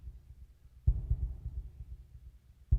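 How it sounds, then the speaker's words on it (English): Deep, muffled heartbeat thuds from the game Deltarune, a heavy double-beat pulse with strong low booming hits at steady intervals, throbbing alone with no voices. "Y'all hear the heartbeat?"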